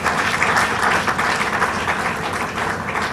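Audience applause for Dr. Bashir Jamo at a formal event, a sustained wash of many hands clapping at an even level across the whole stretch.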